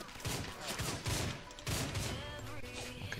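Rapid bursts of gunfire ring out in the first-person shooter Line of Sight, loud, dense and overlapping, with sharp volleys repeating over about three seconds and faint game chatter underneath.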